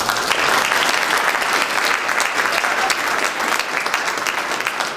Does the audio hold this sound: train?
no